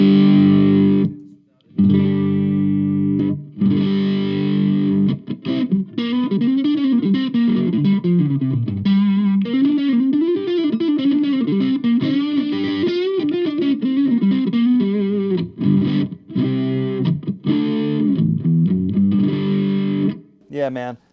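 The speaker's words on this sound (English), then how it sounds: "Now do that through a gain channel. You got a good distortion pedal?" An electric guitar played through a distortion pedal on a gain channel, sustained gritty chords and bending lead notes ringing with heavy saturation, short gaps between phrases.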